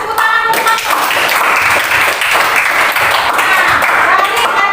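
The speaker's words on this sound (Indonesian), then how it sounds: "kasih tepuk tangan dulu, Mas." Audience clapping in a university teaching-practice classroom, a dense, loud and continuous patter of many hands that holds steady throughout, with some tonal voice-like sound mixed underneath.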